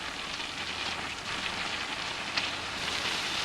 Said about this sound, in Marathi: छान कांदा गुलाबी रंगावर परतून घ्यायचा आहे।